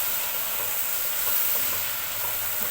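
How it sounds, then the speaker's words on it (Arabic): Onions fry in a pot for chicken Bukhari rice, a continuous close sizzle with faint scraping from stirring underneath, no voices heard. "نزلنا بالبصل بتاعنا كده وهنقلب"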